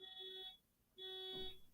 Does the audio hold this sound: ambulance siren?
no